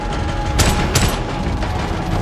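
Gunfire in an action film scene: a rapid burst of loud shots with two sharp blasts standing out over a dense, noisy battle backdrop.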